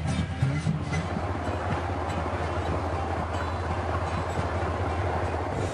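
A heavy snowplow locomotive running along a mountain railway in Norway, a loud continuous rumble of wheels and engine heard from on board, steady throughout with no talking.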